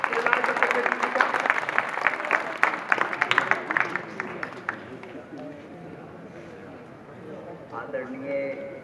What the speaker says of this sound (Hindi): तालियों से हम स्वागत करेंगे श्री लाल चतुर्वेदी जी का